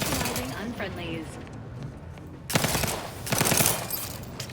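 Rapid gunfire from The Outer Worlds 2, played on Very Hard difficulty, comes in two loud bursts in the second half, with quieter sound and some voice before them.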